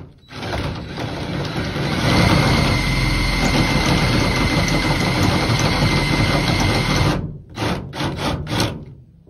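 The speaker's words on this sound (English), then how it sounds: "Now I'm gonna use the 5/16 bit to hopefully erase all of the portion of the bolt that is attached to that head" A drill with a 5/16 bit grinds into a stripped bolt head on a farm, a loud steady motor whine and rough metal cutting running for several seconds before stopping and restarting in short bursts.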